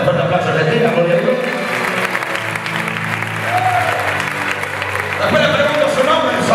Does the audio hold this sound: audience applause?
yes